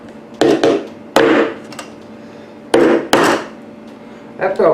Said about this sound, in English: I'm not very good with a hammer.